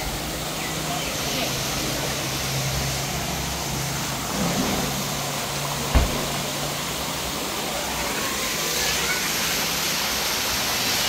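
Cold water runs steadily down a roadside stream in Pakistan, a constant broad rushing wash close by with a single brief thump partway through.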